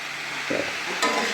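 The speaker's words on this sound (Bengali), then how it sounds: "এবার এই যে আওয়াজ কমে যাচ্ছে, ভাজার আওয়াজ কমে যাচ্ছে," Pumpkin chunks frying in a wok give off a steady, close hiss of sizzling oil, broken by a soft stir or scrape about halfway through and a brighter burst near the end.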